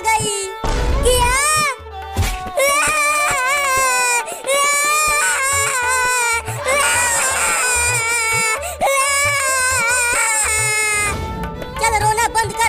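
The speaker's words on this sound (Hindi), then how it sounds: "चल रोना बंद कर" A child wails and sobs loudly in long, repeated crying bursts with brief breaths between them, close by, while other voices speak briefly around the crying.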